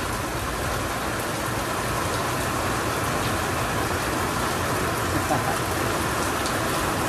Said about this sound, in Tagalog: pangatlong araw na itong ulan. Tuloy-tuloy na itong inulan.